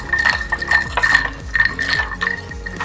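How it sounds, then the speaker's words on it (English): A bar spoon stirs a Negroni in an ice-filled glass, producing quick, bright clinks and rattling ice in a steady circular rhythm, close and clear with no talking. "Get a nice stir going."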